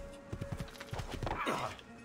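Horse hooves clip-clopping at a gallop in Assassin's Creed II, a quick run of close, rhythmic thuds followed by a brief whinny-like sound near the end.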